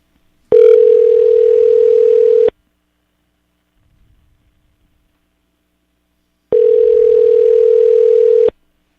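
An outgoing telephone call rings back with two long, steady electronic tones, each about two seconds, separated by roughly four seconds of silence, loud and clear with no talk.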